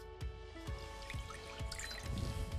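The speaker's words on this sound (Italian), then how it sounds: "Versiamo nel tegame l'acqua" Water trickling and dripping into a pan as the first step of Neapolitan zeppole di San Giuseppe dough, heard up close and fairly quiet, with irregular soft splashes and no talking.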